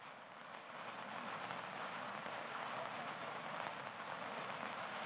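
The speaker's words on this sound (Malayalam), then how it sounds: "ജില്ല മുഴുവൻ മഴയാണ്" Steady rain falling across a district in Kerala during an orange alert, a dense continuous hiss heard faintly and evenly throughout with no voices.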